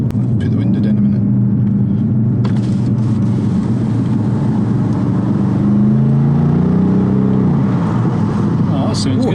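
A BMW M850i xDrive coupe in sport mode burbles with a deep, loud, close engine rumble from inside the car, swelling briefly midway, while people talk over it.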